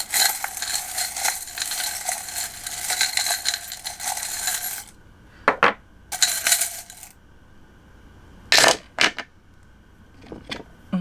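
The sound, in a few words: tarot charms being handled and dropped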